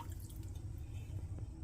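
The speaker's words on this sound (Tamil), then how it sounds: "ஸோ 400 mlக்கு இதில் தண்ணி சேர்த்துக்கலாம்." Water pours steadily into a cooking pan, about 400 ml added for vermicelli biryani, a continuous close trickling and dripping with no other sounds.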